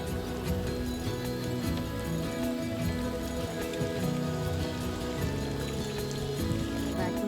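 Rain falls steadily during a canoe trip on Stratton Lake, a faint, even patter and hiss over the water with no voices.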